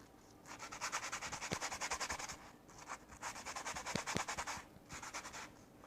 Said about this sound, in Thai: เดี๋ยวผมจะขัดให้ดูนะครับว่าเราทำแบบไหน เนี่ยครับขัดให้หมดเลย